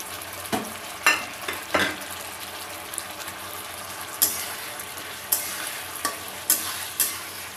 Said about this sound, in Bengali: এবার আমরা এর মধ্যে ভেজে রাখা চিকেনগুলোকে দিয়ে দেব।